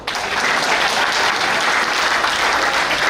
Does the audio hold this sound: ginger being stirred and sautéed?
no